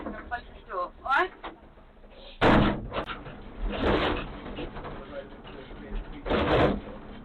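A police officer shuts a door: a sharp close thump cuts in among conversation, followed by further knocks and handling sounds under continuing voices.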